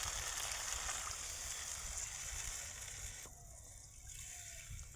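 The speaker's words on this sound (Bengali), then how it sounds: "এই দেখো, জল দিয়ে দিলাম।" Water is poured into a cooking pan of silver fish in mustard paste, giving a soft steady splashing hiss, faint and close, that fades slightly toward the end.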